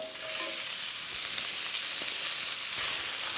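Onions hitting hot burger fat in a pan for gravy: a loud, continuous hissing sizzle that holds steady throughout, close and unbroken, with no voices.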